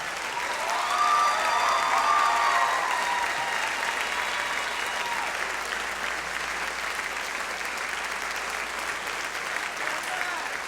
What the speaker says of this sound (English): be recognized with one final round of applause